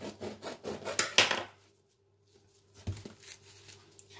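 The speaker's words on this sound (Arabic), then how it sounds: "دابا غادي نقطع لكم باش تشوفوا راه رطب" A knife cutting through soft, warm homemade hanout bread: a close, scratchy sawing rasp for about a second and a half, then near silence with a faint hum and a couple of small soft touches.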